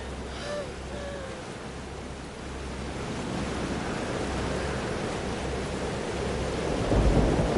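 A thunderstorm rumbles in Life is Strange: Double Exposure as a continuous wash of heavy rain and wind, loud and steady, swelling toward the end.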